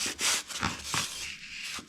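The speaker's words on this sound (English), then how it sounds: "Make sure that you're sanding flat as well" Close rubbing and scraping strokes of foam being sanded flat on a table, a few bursts of abrasive friction against the surface, with no voices.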